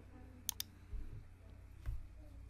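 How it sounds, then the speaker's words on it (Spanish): Two quick mouse clicks on a computer, sharp and close, with a low room hum and faint background rustle afterward. "damos clic para abrir Word"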